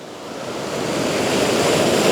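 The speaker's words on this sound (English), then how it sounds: "The waves are silver and glassy and perfect." Steady rushing surf swells and builds, a continuous wash of breaking ocean waves with no voices.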